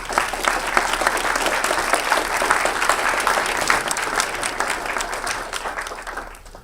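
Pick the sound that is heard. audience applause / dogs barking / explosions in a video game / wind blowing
audience applause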